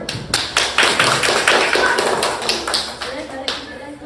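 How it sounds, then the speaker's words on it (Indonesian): Schoolchildren in a classroom clap their hands after group presentations, a lively, uneven patter of many claps with sharp taps throughout, fairly close and loud, with voices mixed in. "kalau mau nyala boleh kasih plus tepuk tangan"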